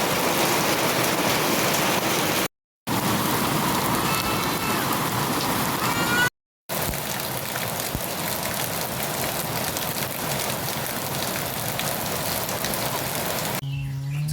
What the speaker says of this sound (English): So it means that it will rain